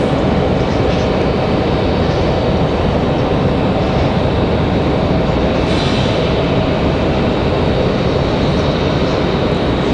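A United Airlines jet passes at Raleigh-Durham International Airport, a loud, sustained broadband engine roar that holds steady throughout with no voices.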